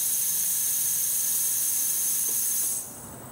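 An air compressor blows out a sprinkler line through a hose bib, a steady loud hiss of rushing air that holds for close to three seconds, then drops off sharply to a quieter residual hiss.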